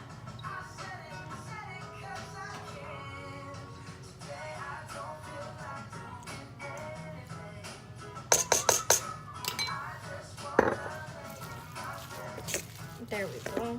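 Asian-style meatloaf ingredients with soy sauce are mixed together in a bowl, giving quiet, scattered clinks and scrapes of utensil on dish, with a short cluster of sharper clinks midway and a few more near the end.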